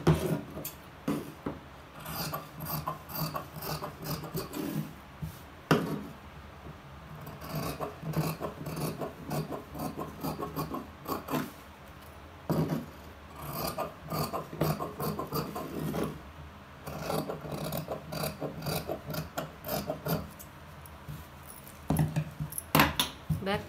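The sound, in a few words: cutting fabric pieces for a silk pavadai dress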